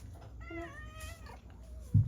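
A cat meows once in a clear, drawn-out rising-and-falling call, close and fairly soft over a low background rumble, followed by a brief thump near the end.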